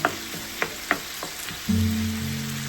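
Chicken gizzards stir-frying in a pot: a few sharp taps and scrapes at first, then a steady, close sizzle that swells and holds to the end.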